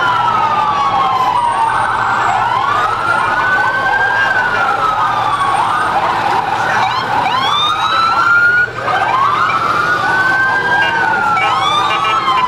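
Fire truck siren wailing loudly and close at a holiday parade, a ladder truck passing in a December street procession, with repeated rising and falling sweeps over crowd noise and a steady engine rumble.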